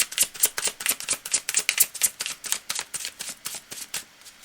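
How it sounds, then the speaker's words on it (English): A deck of tarot or oracle cards is shuffled for a reading, making a rapid, rhythmic run of crisp riffling flicks that continues steadily for several seconds, close and fairly bright, with no voices. "I'm just going to shuffle this up"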